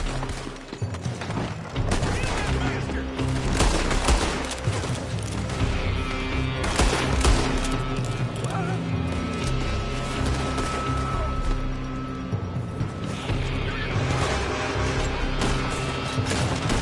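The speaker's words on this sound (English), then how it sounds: "They're shooting from that building." A shootout in Red Dead Redemption 2, with continuous loud gunfire, crashes and booming impacts layered over a busy game soundscape, and voices talking intermittently.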